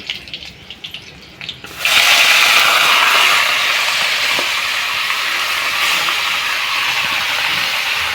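Marinated chicken meat hits a hot pan of spiced oil with chili, cardamom, cinnamon, cloves and bay leaf, bursting into a loud, steady sizzle that holds close and continuous after a quieter start.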